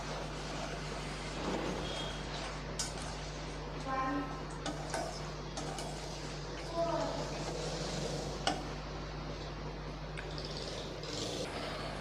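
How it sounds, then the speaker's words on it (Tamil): Jaggery syrup bubbles and sizzles steadily in a pan, with occasional stirring clinks and scrapes over a constant low hum, and a voice talking at times. "வெள்ளம் நல்லா கரைஞ்சி கொதிக்க ஆரம்பிச்சிருச்சு"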